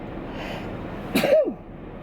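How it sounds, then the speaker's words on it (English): A single sharp human sneeze indoors, a brief burst against quiet room tone, followed by a short trailing vocal tail. "I'm about to sneeze, I can tell."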